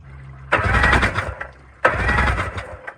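A mini jet boat engine being cranked after water was cleared from its cylinders, two loud starter bursts of a little over a second each with a short pause between, close and without speech.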